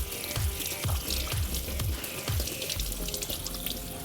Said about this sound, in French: Vous pouvez rouvrir le robinet.